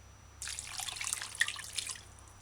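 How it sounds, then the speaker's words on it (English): Water pours steadily into a container while mango juice is being made, a short continuous splashing trickle heard close and alone, starting abruptly and fading out after about two seconds. "measure and add 2 cups water"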